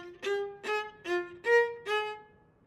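Solo viola playing a measure from a Mendelssohn excerpt, five separate bowed notes beginning on a down bow, each articulated with a short gap, close and clear with no talk.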